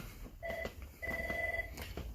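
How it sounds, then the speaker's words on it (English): A telephone rings at work in two short electronic trilling bursts with a gap between, moderately loud indoors against faint room noise. "Phone."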